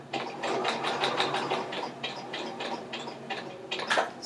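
A sewing machine stitches the crotch seam of a garment, its needle clattering in a quick, even rhythm close by, with brief variations in speed.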